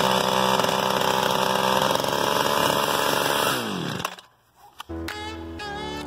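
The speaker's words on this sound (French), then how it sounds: "Une tronçonneuse, c'est très dangereux quand vous la mettez en route." A chainsaw roars loudly and steadily after starting, then winds down and cuts out, followed by a brief sputter and a short restart burst.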